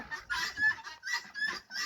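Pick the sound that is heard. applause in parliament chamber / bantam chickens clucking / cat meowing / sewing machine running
bantam chickens clucking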